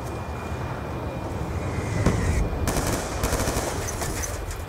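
Rapid machine gun fire in the multiplayer mode of the video game Call of Duty Black Ops 2, dense sustained bursts with a sharper crack near the middle, no talking.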